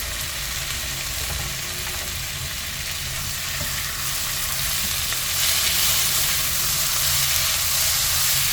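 Steady frying sizzle of onion and tomato in a pan, a continuous hiss that grows a little louder toward the end, with no talking.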